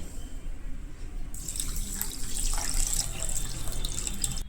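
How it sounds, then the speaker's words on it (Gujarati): Water is poured into washed sago for soaking, making a steady splashing, bubbling pour that strengthens after the first second and runs on evenly with no talk. "હવે આ સાંબામાં આપણે પાણી નાખી અને 1 કલાક માટે પલાળવા મૂકી દેશું"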